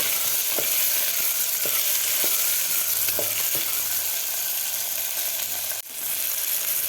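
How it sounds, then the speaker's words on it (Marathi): Green peas sauté with spices in a pan for pulao, a steady close sizzle and frying hiss with several soft spoon scrapes and stirring taps, and no talking. "मटर घातल्यानंतर सुद्धा आपल्याला 1 मिनिटभर व्यवस्थित परतून घ्यायचं आहे।"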